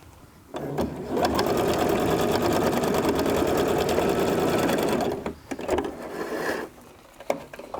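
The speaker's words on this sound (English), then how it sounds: "now I'm just going to sew these pieces together and move on to my next one" Sewing machine stitching fabric pieces together for regalia, a fast, loud, continuous mechanical whir running for several seconds, then stopping, followed by a shorter burst and a few clicks.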